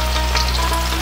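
Potatoes and onions fry in hot oil in a kadai, a loud continuous sizzle with a dense crackling hiss and no voices.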